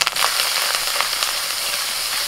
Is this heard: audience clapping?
no